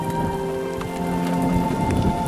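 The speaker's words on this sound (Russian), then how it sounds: "Пошел дождь." Steady rain pours down outdoors, a dense, even patter with occasional heavier drops, continuous and fairly close, with no voices.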